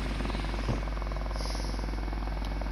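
Helicopter in the online shooter Call of Duty: Modern Warfare thrums in a steady, loud rotor drone with a continuous low buzz, a brief thump near the start, no voices over it.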